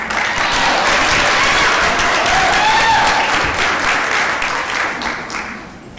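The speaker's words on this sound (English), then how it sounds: "if we can give a big round of applause for our certificate graduates" A large audience at a graduation ceremony claps loudly for the graduates in a dense, sustained burst of applause, which tapers off slightly at the end.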